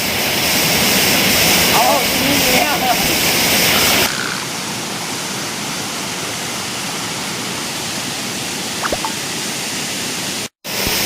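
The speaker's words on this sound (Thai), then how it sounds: "น้ำตกแห่งนี้" Waterfall deep in a forest, a steady broadband roar of rushing water that is loud and close for the first few seconds, then continues more softly as a constant wash.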